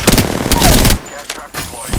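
Rapid automatic gunfire bursts from an Apex Legends firefight, dense and loud in the first second, then sparser shots and sharp cracks, with game voice lines briefly over the action.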